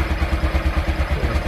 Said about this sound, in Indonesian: pastikan suara mesin ini halus